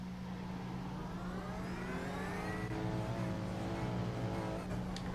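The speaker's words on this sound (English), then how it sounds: "There's a car approaching." A sim racing car engine drones steadily with a rising whine, another car's engine growing nearer over the constant hum.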